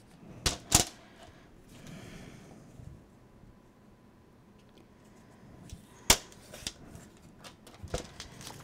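Paper being trimmed to size for a decorated scrapbook file folder in a vintage Staples album project, heard as a few sharp cutting snips and slices separated by quiet pauses, close and fairly faint.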